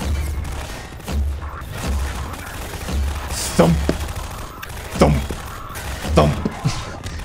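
Heavy thumping weapon in the video game Half-Life 2, a rhythmic series of low booming thuds repeating about once a second, with sharper impact bursts layered on top amid game noise.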